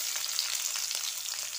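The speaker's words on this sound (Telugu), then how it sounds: "ఆయిల్ బాగా వేడైన తర్వాత ఇవన్నీ వేసేయాలి. ఆనియన్, మిర్చి వేయాలి." Onion and green chili fry in hot oil with cumin seeds, curry leaves and dried red chilies, a dense continuous crackling sizzle heard close up with no pauses. No one speaks.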